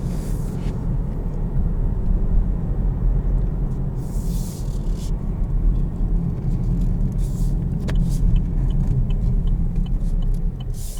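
Interior cabin sound of a 2020 Chevrolet Camaro LS while driving: a steady, loud low engine drone and road rumble holding constant, with a few faint clicks and rustles over it.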